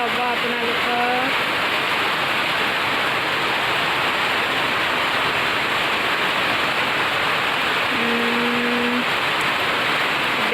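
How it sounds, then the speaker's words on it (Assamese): Heavy evening rain pours down in a constant, dense hiss that stays loud and unbroken throughout, with a couple of faint brief tonal sounds drifting over it. "ইয়াতে বহুত বৰষুণ দি আছে"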